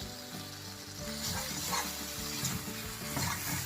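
Coriander, cumin and garlic paste frying in a pan on low heat for ginger pulusu, a steady close sizzle with stirring and scraping throughout.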